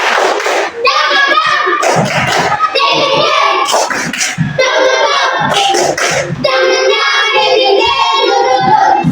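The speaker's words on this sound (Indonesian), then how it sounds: "sebelum kita mulai pelajaran ini kita tepuk semangat dulu ya" A class of schoolchildren stands and performs the tepuk semangat clapping chant, sharp rhythmic hand claps and thumps mixed with loud, sustained chanting voices throughout.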